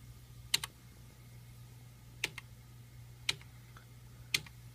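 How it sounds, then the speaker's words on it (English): Arrow keys on a computer keyboard are tapped one at a time, giving four sharp, separate clicks a second or so apart over a steady low electrical hum in a quiet room. "So I can just scroll through by just hitting right on my keyboard."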